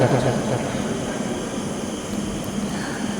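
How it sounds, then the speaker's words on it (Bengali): A train at Sealdah railway station produces a steady, fairly loud rumble with a broad mechanical roar that carries on without a break. "এই শিয়ালদা স্টেশনে আমরা রয়েছি এরপরে ওই যে ট্রেন দেখা যাচ্ছে এই ট্রেনে করেই আমরা চলে যাব"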